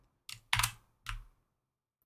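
Keys clack on a computer keyboard while a command is entered in the vim editor: three distinct, fairly close keystrokes in quick succession, then a faint fourth tap after a short pause.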